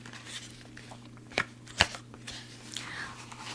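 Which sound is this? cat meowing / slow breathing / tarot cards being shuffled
tarot cards being shuffled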